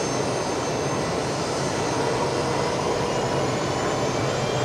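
A Fokker 70 jet taxis into its bay at Brisbane Airport at night, its engines giving a steady, loud broadband roar with a faint whine that holds throughout.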